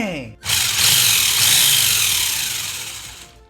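A WLtoys 144001 RC buggy's electric motor winds up abruptly to full throttle, a loud, close, high-pitched whine that holds steady and then slowly fades as the buggy pulls away.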